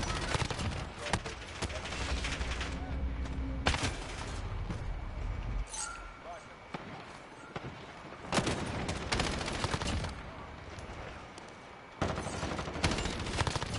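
Gunfire in Call of Duty Modern Warfare season 2 multiplayer, with repeated loud bursts and single shots hitting hard throughout the clip and short lulls between volleys.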